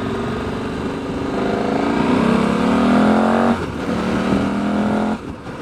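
A car engine drones close by and rises in pitch as it accelerates past a KTM 1290 Super Adventure motorcycle on the road, then cuts off abruptly near the end.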